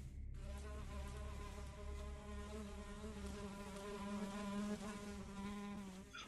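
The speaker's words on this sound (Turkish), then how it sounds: "Ortada sinek yok ama sinek sesi duyuyorum ve bu biraz can sıkıcı." A persistent fly buzzes steadily and close in the video game Black Faith, a droning insect hum layered with a low in-game ambient tone, continuous and alone for several seconds with no talk.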